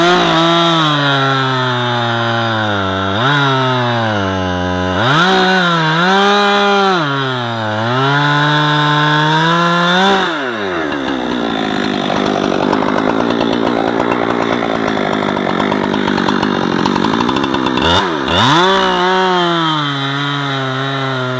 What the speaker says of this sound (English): I generally get to this point where I'm just doing it with the chainsaw